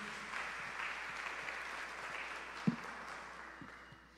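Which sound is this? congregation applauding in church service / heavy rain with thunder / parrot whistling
congregation applauding in church service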